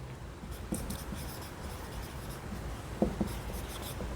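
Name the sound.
writing by hand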